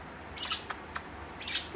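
Budgies and lovebirds give a few short, sharp chirps spaced out over a soft steady background, close but fairly quiet.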